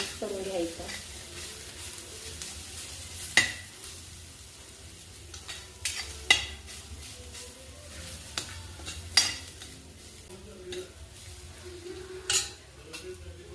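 Coconut, garlic and coriander masala is stirred in a pan for a masala capsicum dish, a soft continuous sizzle broken by intermittent clinks and scrapes of a spoon against the metal.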